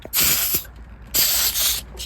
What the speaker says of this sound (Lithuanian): Va, tokį šlangykę pasijungėm.